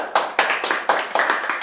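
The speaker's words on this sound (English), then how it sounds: "Stop clapping, we'll clap at the end!" Small audience clapping in uneven bursts, a handful of sharp, close hand claps repeating about every quarter second with no voices over them.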